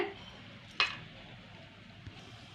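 Tempering spices crackle and sizzle in hot oil with a sharp pop early on, then a quiet, steady frying hiss.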